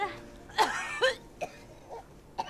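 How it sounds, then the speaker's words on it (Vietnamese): An elderly grandmother coughs heavily in a few separate, harsh bursts, the loudest two close together early on and fainter coughs trailing after, with no talk. "sao tự dưng bà ho nặng thế"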